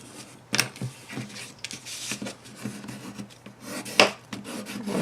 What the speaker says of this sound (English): And I'm going to burnish this really, really good so that it doesn't go anywhere.